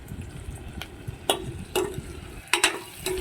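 A spatula scrapes and clacks against a pan as soya chunks with ginger paste and chopped green chillies are stirred, giving a few sharp knocks over a soft, steady sizzle with no talking.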